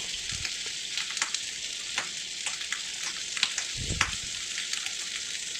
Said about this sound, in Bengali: পটলগুলো ঘুরিয়ে দিচ্ছি একটা পাশ ভাজা হয়ে গেছে